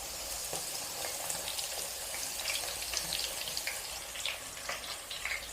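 Finely chopped onion tipped into hot oil with fennel seeds for a chicken gravy, a dense continuous sizzle and crackle with faint pan clatter, close and steady.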